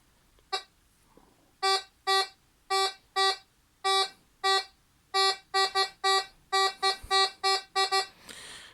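A metal detector emits a series of sharp electronic beeps, a single chirp followed by repeated bursts growing quicker and closer together, loud and close.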